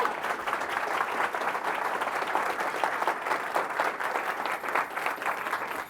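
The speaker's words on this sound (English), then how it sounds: "Go ahead, applaud that" Audience at a sales talk breaks into steady applause, a full crowd clapping evenly at moderate distance for several seconds, with no speech over it.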